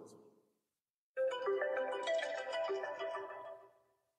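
Mobile phone ringtone plays a bright melodic tune for a few seconds, loud and close, after a brief voice fades and a short pause.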